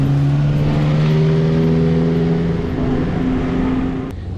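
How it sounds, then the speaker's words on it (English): Datsun Roadster engine revving loudly and close up, a strong sustained roar that holds steady and then tapers off at the end. "this one is a Datsun Roadster, the father to the Z"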